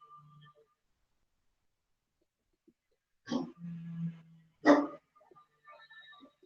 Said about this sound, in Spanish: Mi perro está todo ahogado.